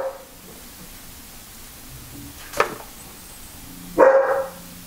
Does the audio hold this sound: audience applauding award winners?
no